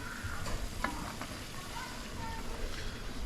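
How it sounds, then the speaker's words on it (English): A tomato and bean stew with bouillon and herbs simmering in a pot on a stovetop over medium heat, giving a soft, steady bubbling and sizzling hiss with faint occasional ticks, close and quiet. "Just let this simmer until the tomatoes break down."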